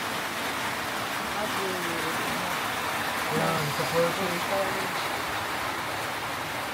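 Rain falling outdoors in Bukidnon during an engagement outing, a steady broadband hiss throughout, with people talking and a faint tonal sound in the middle.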